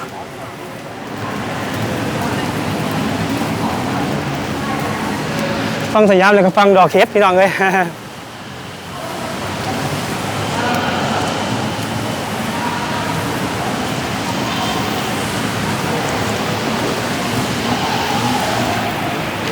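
Continuous rain falls in Bangkok, a broad steady hiss that fills the whole stretch, while someone talks over it almost throughout.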